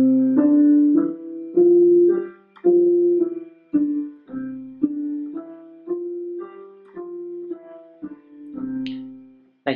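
Piano playing a beginner five-note exercise from C up to G and back down, clear single notes struck one after another at an even pace, close and alone without talk.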